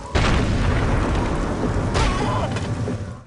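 A sniper rifle shot in the Sniper Elite game on Wii, a loud booming blast followed by a sustained rumbling tail and a second burst, heard alone without talk.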